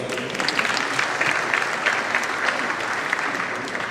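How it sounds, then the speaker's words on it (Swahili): Dense crowd applause at a Kenyan political gathering honouring women in leadership, a steady even clapping roar from many hands lasting the whole stretch. "Tuwapigie makofi"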